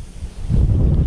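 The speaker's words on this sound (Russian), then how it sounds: "Осень какая-то ветреная в этом году." Strong autumn wind blows during a fishing trip, buffeting the microphone in a low roar that swells and grows louder over the second half, with no talk.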